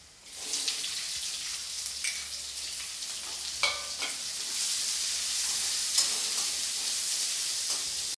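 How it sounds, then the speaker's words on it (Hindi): Garlic, ginger and onion fry in a pan for a shahi bhindi (okra) dish, making a steady, close sizzle with occasional scraping stir clinks throughout. "जब अदरक और लहसुन हल्का सा फ्राई हो जाए तब मैं डालूंगी इसमें अनियन।"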